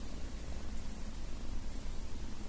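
A cat purrs close up, a continuous low rumbling purr that stays steady and even throughout, with no voices.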